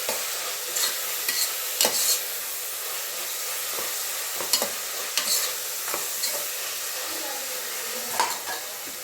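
A pan of tomato bath with chopped coriander is stirred over the heat. A soft steady sizzle is broken by scattered scraping and clinking of the spoon against the pan, close and moderately quiet, with no talk.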